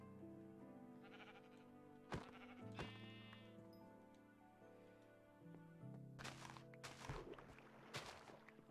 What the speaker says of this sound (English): Probably like kill some sheep.